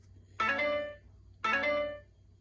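A phone ringtone sounds twice, two identical bright melodic chime bursts about a second apart, each fading out, moderately loud over a low background hum.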